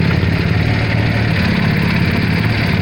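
Ford 300 inline six with a straight pipe exhaust idles steadily up close, a loud, even low rumble with a rapid, regular pulsing and no pauses.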